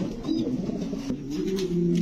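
Male fancy pigeons at a breeding farm coo in a low, rolling, continuous murmur, close and steady throughout.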